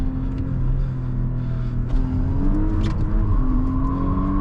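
Audi S5 sliding through a corner at 100 km/h, heard from inside as a steady, loud engine drone with rising revs and road rumble throughout.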